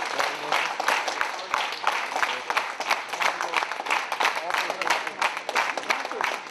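A crowd of waiting parents welcomes a victorious Armenian team home with steady, dense applause and rhythmic chanting, sustained and busy throughout, with some voices mixed in.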